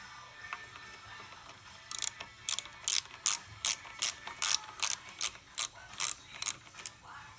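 A ratchet loosens the chain tensioner bolts on a Honda ATC 200M three-wheeler, clicking in quick, close bursts of repeated pawl ticks that start after a quiet moment and continue rhythmically to the end, with no voices.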